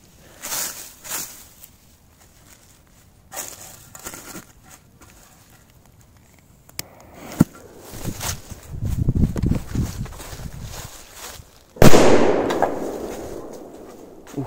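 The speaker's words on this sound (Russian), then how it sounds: "Еще есть мощные петарды, так. Давайте все же вот там взрывать, чтобы было хорошо видно." Big firecrackers go off outdoors among trees: a few scattered sharp bangs, then a denser crackling stretch and one loud close blast near the end with a rumbling tail.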